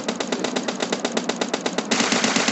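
Rapid automatic gunfire in the mobile-style shooter PUBG Lite, a fast steady stream of close, loud shots at roughly eight per second that shifts to a denser burst near the end, with no talk.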